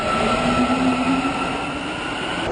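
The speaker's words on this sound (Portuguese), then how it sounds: "Para chegar em casa, Fanny passa por 6 estações de trem e 16 de metrô." Train and metro journey through suburban rail and subway stations: a steady, loud rolling rumble of carriages in motion with a sustained wheel hum and a faint squeal, continuous throughout with no voices.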